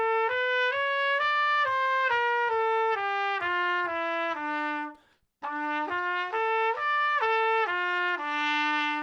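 A trumpet plays an E melodic minor scale alone, clear stepwise notes climbing and then descending, with a brief pause midway.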